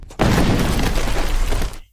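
A landmine goes off under a horse in a film scene: a sudden loud blast that roars and rumbles with debris for over a second, then cuts off abruptly.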